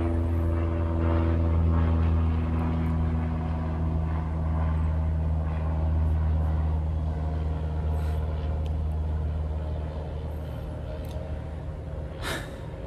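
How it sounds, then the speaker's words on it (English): An airplane flies overhead at an outdoor RV site, a loud low droning rumble that holds steady and then gradually fades. "And now I have a plane flying over me."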